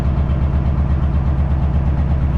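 Heavy 4x4 truck diesel engine idling steadily, a dense continuous low rumble with a fast even pulse, close and loud with no talk.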